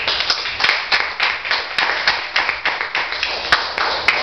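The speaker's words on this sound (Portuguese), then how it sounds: "aplausos" Applause in a church during a service, a fairly small group clapping in a steady, even rhythm of sharp, close claps with no talk.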